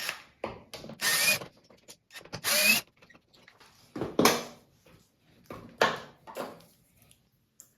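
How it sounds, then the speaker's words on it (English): Flathead screws are backed out of a door striker plate with short bursts of a screwdriver or drill, several brief whirring spurts separated by pauses and small clicks. "we're going to remove the two flathead screws that are here on the striker plate"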